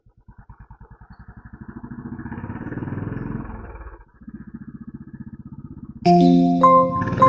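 A restored Royal Enfield Classic 500 thumps at idle close by, its slow even beat swelling as the revs rise and then settling back, before a loud horn-like tonal sound takes over near the end.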